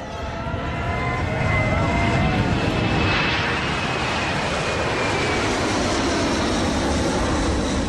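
A fixed-wing airplane departs an Antarctic base, its steady engine roar broad and loud throughout, with a faint tonal whine sweeping across the middle as it draws away.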